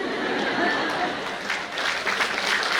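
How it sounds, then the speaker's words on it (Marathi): Applause at a chemistry quiz prize distribution and valedictory function comes as a soft, steady patter of many hands from an audience in a hall, continuous and fairly faint with light chatter mixed in. "टाळ्या टाळ्या टाळ्या"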